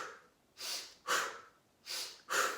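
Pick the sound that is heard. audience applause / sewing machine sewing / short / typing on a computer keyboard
short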